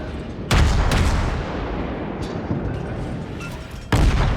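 Ship gun salvos in World of Warships, including a Murmansk and a Kutuzov, with loud booming blasts at the start and end over a continuous rumbling battle din.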